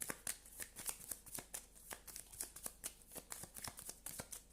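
Tarot cards being shuffled and cut, a rapid run of crisp riffling flicks and soft slaps repeating steadily at close range with no talking.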